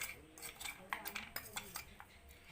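A metal spoon clinks and scrapes against a bowl, stirring crushed biscuit powder into milk in several quick, close, light taps and swirls.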